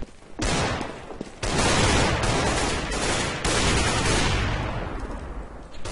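Rapid bursts of gunfire in the game CS:GO, loud and sustained with sharp onsets, heavy automatic fire continuing almost the whole time with brief gaps.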